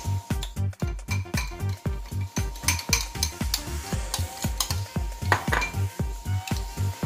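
Coconut flour pancake batter cooks in a pan, a close sizzle running under a steady, rapid series of rhythmic utensil taps and scrapes against the pan, with no voices.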